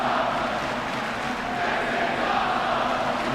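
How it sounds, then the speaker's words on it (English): Steady crowd noise fills a WWE 2K25 wrestling video game match, a continuous roar of cheering at even loudness with no clear peaks, heard alone throughout. "the crowd is actually giving Bryan Cruz his flowers"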